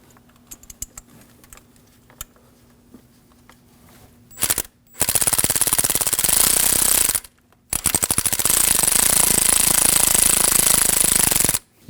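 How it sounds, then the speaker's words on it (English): An impact or power tool tightens a 10mm bolt on the ignition coil pack of a 2013-2015 Subaru XV Crosstrek 2.0L H4. It starts with faint clicks, then gives a short burst and two long, loud rattling runs separated by a brief pause. "Now we can tighten down this 10mm."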